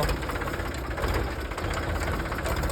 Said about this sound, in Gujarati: જો ટ્રેક્ટર આવે છે આપણું ભરીને.